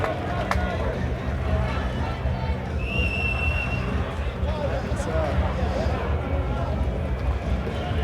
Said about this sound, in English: The crowd are loving it. The crowd going nuts.